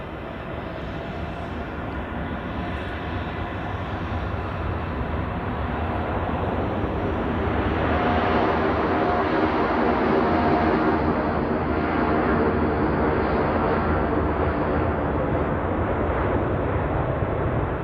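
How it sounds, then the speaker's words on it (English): An Etihad airliner takes off at Zurich Airport on a winter day, its engines roaring in a broad sustained rumble that swells toward the middle and holds, heard alone from a distance. "Cleared for takeoff for Etihad."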